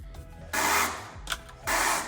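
Squeaking from the steering of a lowered 1980 Toyota pickup as the wheels are turned, heard as two close, loud bursts with a short pause between them, no talking.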